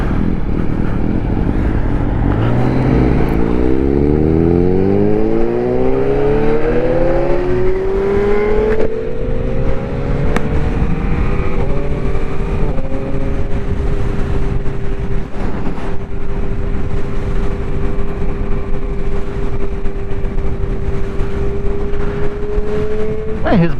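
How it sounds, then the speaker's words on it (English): A loud motorcycle approaches and revs, its engine tone sweeping up and down with rising and falling pitch through the first half, then settling into a steady drone, with someone talking over it. "His bike is loud."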